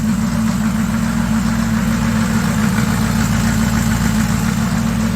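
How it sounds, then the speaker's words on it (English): A GMC truck engine idles steadily and loudly after an engine swap, a low rumbling throb with a slightly uneven, knocking pulse that holds constant throughout. "It's getting less smoky, I swear. And it's actually idling on its own."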